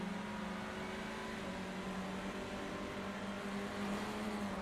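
Onboard replay from a touring car in the iRacing sim at the Montreal circuit, a steady, fairly faint engine drone holding an even pitch throughout with no voices over it.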